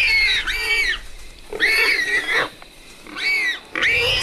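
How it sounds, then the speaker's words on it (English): A warthog at night lets out loud, harsh screams in three separate bursts, each about a second long, with short quiet gaps between them. "But the warthog screams caught the attention of another night prowler"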